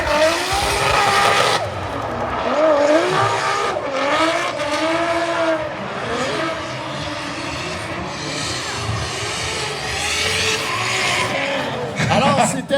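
Drift race car on a solo run at a professional drift competition round in Mirabel, engine screaming with rising and falling revs and tire squeal, loud and continuous, with crowd or announcer voices underneath.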